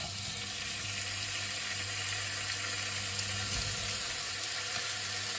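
Chicken breast and bacon brown in a hot pan, giving a loud, steady, close sizzle and crackle with a faint low hum underneath and occasional soft stirring.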